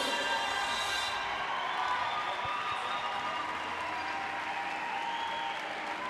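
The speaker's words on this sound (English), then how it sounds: "A big round of applause for these athletes on this first heat." Crowd applause and cheering fill a CrossFit team competition arena after a heat ends, a dense, steady wash of clapping with scattered shouts that holds loud throughout.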